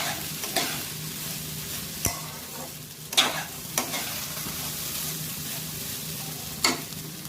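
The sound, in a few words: basmati rice frying and stirred for pulao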